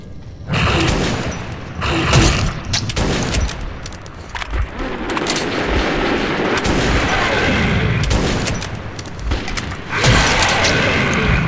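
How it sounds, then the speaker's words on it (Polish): Dense, continuous magnum gunfire in the video game Metro 2033, heavy booming shots layered over a busy, noisy background, the blasts coming in rapid irregular bursts throughout. "Dlaczego nie umieracie od dwóch strzałów od mojego potężnego magnuma?"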